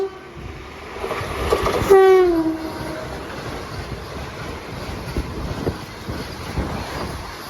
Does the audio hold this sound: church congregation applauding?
no